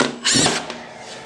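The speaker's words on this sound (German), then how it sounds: "schrauben dann so alle 8 bis 10 cm schrauben wir eine Schraube rein" A drill-driver sets a screw into a Rigips drywall board, giving one short close burst of motor whir that winds down quickly under faint room noise.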